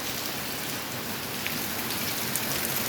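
Heavy pre-monsoon storm rain pours down onto surfaces in a steady dense wash, a continuous close hiss of falling drops with no voices.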